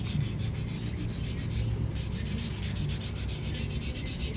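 Steady back-and-forth rubbing of 320 grit sandpaper over painted metal on a car fender, a continuous close scratchy hiss with rhythmic strokes and no talk.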